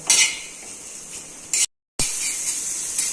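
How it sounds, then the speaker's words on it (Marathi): Onion frying in a pan for mutton curry, a bright continuous sizzle that cuts out in a short silent gap and then resumes at the same close, steady level, with no talking. "हे बघा, आपला कांदा भाजत आलाय"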